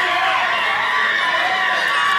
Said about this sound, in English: Listen to the crowd go crazy for the Mac, and Dan DeMan is going to give some unfortu